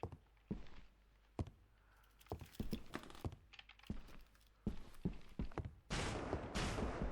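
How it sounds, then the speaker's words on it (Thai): Sharp, sporadic gunshots in the horror video game Eternal Evil crack out in irregular bursts, some in quick clusters, ending with a couple of longer noisy blasts. "เสียงปืน เสียงปืน เสียงปืน"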